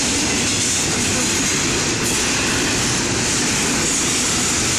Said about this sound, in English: Norfolk Southern 9656. Freight train going through Effingham, Illinois.